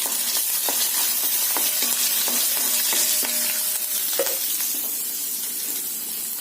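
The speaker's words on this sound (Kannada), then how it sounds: "ಮೆಣಸಿನಕಾಯಿಯನ್ನು ನಾವು ಕಟ್ ಮಾಡಿಕೊಂಡು ಹಾಕಿ ಫ್ರೈ ಮಾಡಬೇಕು" Garlic and chopped green chillies fry in a pan with a steady broadband sizzle, broken by repeated light clinks and scrapes of a stirring spoon against the vessel, close and continuous with no talking.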